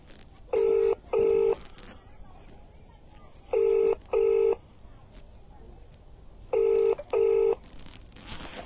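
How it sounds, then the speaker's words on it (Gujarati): Three pairs of telephone ringback tones, evenly spaced, sounding over a quiet line with faint background noise. "ઇલિયાસ વાડીવાલા ભાઈ છે કે જેમને આપણે ફોન કરી રહ્યા છે"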